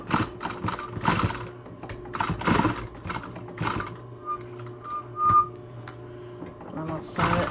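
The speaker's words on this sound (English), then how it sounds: "I'm going to sew it a couple times because I don't want my elastic to pull out" A sewing machine runs in short, quick bursts while stitching elastic onto a fabric mask, its rapid mechanical rattle stopping and starting close by, with a few thin squeaks between runs.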